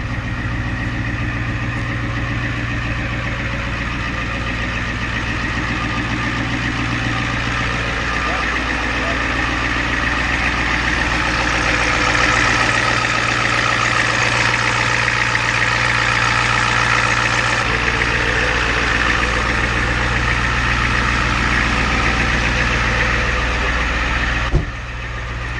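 A Ford Powerstroke 7.3 diesel truck engine idles steadily and loudly throughout, a continuous low rumble that grows slightly heavier midway, with voices talking over it.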